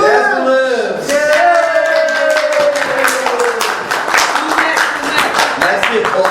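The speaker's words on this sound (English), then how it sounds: "That's the applause of the concert audience when she comes back to life." Players at a tabletop game session play a recording of a concert audience applauding a resurrected character: scattered claps rise into dense, lively applause over music, with voices talking throughout.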